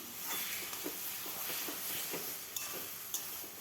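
Spice paste with ground cumin being stirred and fried in a pan, soft hissing sizzle with repeated scraping strokes of the spatula and a couple of sharper clicks, fairly quiet and close.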